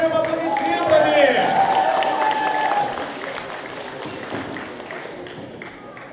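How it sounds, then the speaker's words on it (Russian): An audience applauds after a children's show group's light-show performance at a geek convention. A voice speaks over the opening, then steady clapping carries on. "Поддержим аплодисментами!"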